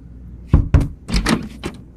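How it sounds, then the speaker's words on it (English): Knocking on a door in the animated show BoJack Horseman: two sharp raps, a short pause, then a quicker cluster of three knocks, loud and close with no talking. "You knock on the door here."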